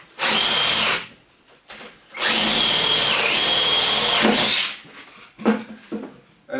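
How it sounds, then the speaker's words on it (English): A power drill whines loudly drilling holes into a wooden flower-arrangement base in two long bursts, the pitch dipping under load, with brief quiet gaps and scraping between. "we're just gonna drill some holes,"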